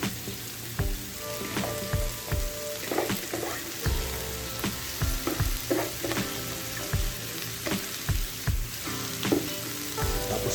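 Tofu, mushrooms and bean sprouts sizzle loudly as they are stir-fried in a pan, with a constant frying crackle broken by regular scraping stirs close by.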